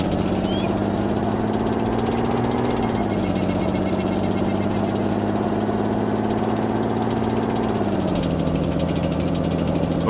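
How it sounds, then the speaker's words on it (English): A loud vehicle engine in the video game ArmA 2 drones steadily, its pitch rising and dropping slightly twice as it revs, with no talking. "Hopefully the engine's not too loud."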